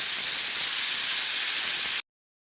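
A pressure cooker with chicken cooking on a gas stove gives off a loud, steady hiss of steam for about two seconds, then cuts off abruptly.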